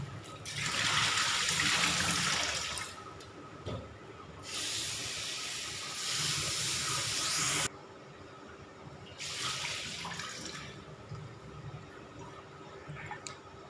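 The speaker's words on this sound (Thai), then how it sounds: "ล้างสะอาด" Tap water runs over spring onions in three strong rushing bursts with brief quieter gaps, close and steady, with no one talking.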